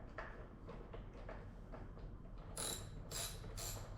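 A ratchet clicks as it loosens the front fork pinch bolts on a Honda CRF 300L motorcycle, giving a few quick, fairly faint ratcheting bursts near the end over low background noise.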